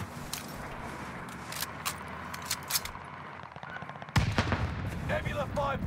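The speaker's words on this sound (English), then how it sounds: "I'm getting shot from behind." Gunfire in Call of Duty Warzone on the Caldera map: repeated sharp shots and bursts, some distant and some closer, with a heavier burst of fire toward the end.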